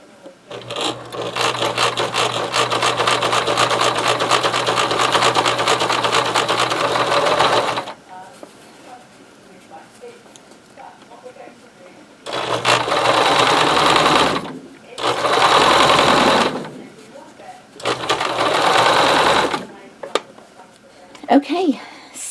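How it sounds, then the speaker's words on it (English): A sewing machine stitches binding onto a fabric mug rug, running loud and close in one long steady burst, then in several shorter runs separated by brief pauses. "I'm just going to machine stitch it."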